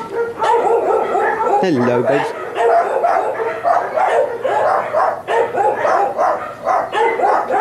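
Several dogs in kennels bark and yip repeatedly at close range, a busy overlapping chorus with a brief whimper, while a person speaks a short greeting over them.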